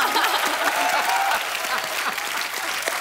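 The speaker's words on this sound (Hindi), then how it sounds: "बहुत बहुत तालियां" Steady applause from a studio audience on The Kapil Sharma Show, a dense clatter of many hands clapping at an even level throughout.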